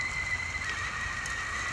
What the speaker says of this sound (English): Here's the whistling.